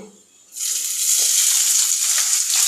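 Chopped big onion drops into hot oil with frying lentils and cashews, setting off a sudden loud, steady sizzle that carries on evenly to the end after a quieter start.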